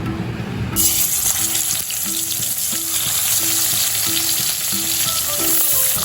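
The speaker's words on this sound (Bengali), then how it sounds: "দিয়ে আমি একটা একটা করে মাছ দিয়ে দেবো ভাজার জন্য।" Koi fish dropped one by one into hot mustard oil in a wok fry with a loud, dense sizzle that jumps up sharply early on and then holds steady, with no talking.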